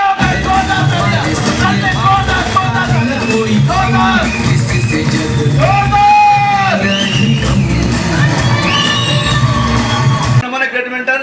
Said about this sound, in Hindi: खड़े होकर जोरदार ताली